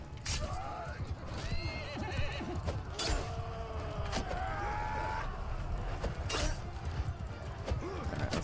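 In a Mount & Blade II: Bannerlord battle, a heavy armored horse neighs and whinnies several times, close and loud, over thudding hooves, sharp combat clatter and busy battlefield noise.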